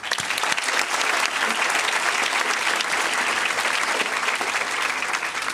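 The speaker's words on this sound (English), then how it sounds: "we should give her a round of applause" Sustained applause from a graduation ceremony crowd, steady and dense clapping throughout with no pauses.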